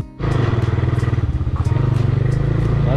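A motorcycle idles close by at a fuel stop, its engine chugging in a fast, even, loud pulse that starts abruptly and holds steady with a slight rattle.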